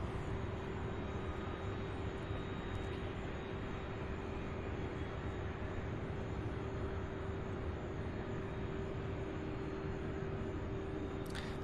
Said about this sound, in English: I see an MD-11. On the move.